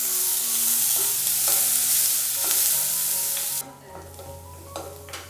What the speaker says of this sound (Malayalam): ഫ്ലെയിം ഒന്ന് മീഡിയത്തിൽ വെച്ച് കൊടുത്തിട്ട് തന്നെ നന്നായിട്ട് ഇതെല്ലാം ഒന്ന് വഴറ്റിയെടുക്കാം